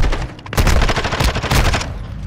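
Ranked Hardpoint match gunfire in a video game, loud close bursts of rapid shots with a brief gap near the start before the firing resumes in dense repeated volleys.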